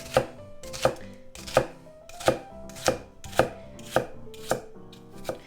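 A knife chops an onion into small dice on a cutting board in crisp, evenly spaced strokes, about nine sharp knocks in steady rhythm, close and clear with no voices.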